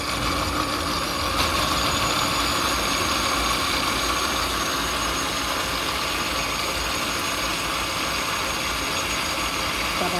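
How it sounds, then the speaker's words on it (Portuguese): A KitchenAid blender mixes pancake batter, a loud, steady, continuous motor drone that holds unbroken and close for about ten seconds. "Batendo a massa."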